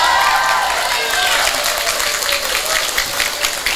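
Crowd at a mosque religious gathering bursts into loud applause, a dense, continuous clapping with some cheering mixed in, holding steady for a few seconds.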